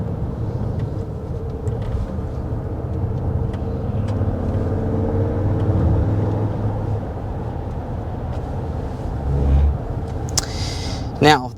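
The V6 engine of a 2024 Toyota Grand Highlander, rated around 290 horsepower, gives a low rumble that swells as the SUV accelerates, heard from inside the cabin beneath a person talking.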